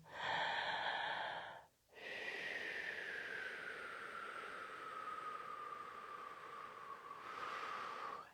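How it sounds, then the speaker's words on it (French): Slow, deep breaths taken during a guided meditation session: a long, airy inhale followed by a brief pause, then a sustained whooshing exhale that trails off, close and steady, with no talking. "On prend des respirations."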